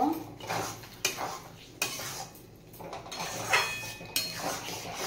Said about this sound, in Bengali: এবার এই হোয়াইট সসের মধ্যে দিয়ে দেব। ভালো করে মিশিয়ে নেব।